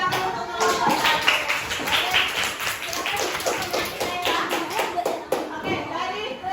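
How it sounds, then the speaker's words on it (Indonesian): Classroom applause for the first student group after its presentation: a sustained patter of many hands clapping at close range, with children's voices mixed in. "Beri tepuk tangan untuk kelompok satu."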